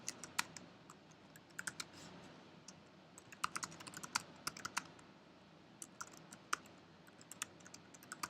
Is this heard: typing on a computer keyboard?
yes